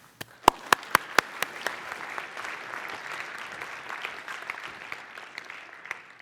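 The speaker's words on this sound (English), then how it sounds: "Let's give a round of applause for Christophe Pettus." Conference audience at a PyCon talk on Django and PostgreSQL bursts into applause welcoming the speaker, starting with a few sharp individual claps and swelling into steady, dense clapping from a moderate-sized crowd that continues to the end.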